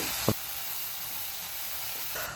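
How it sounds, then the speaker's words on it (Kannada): Fresh green peas frying in a pan, a soft steady hiss of sizzling oil with one brief knock near the start, close and quiet, no voices. "ಅದಕ್ಕೆ ಅರ್ಧ ಕಪ್ನಷ್ಟು ಹಸಿ ಬಟಾಣಿನ ನಾನು ಇದಕ್ಕೆ ಪ್ಯಾನ್ಗೆ ಹಾಕಿ ಸ್ವಲ್ಪ ಫ್ರೈ ಮಾಡ್ತಾಯಿದ್ದೀನಿ"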